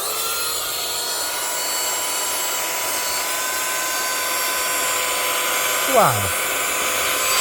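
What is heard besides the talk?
Temu rechargeable car vacuum cleaner running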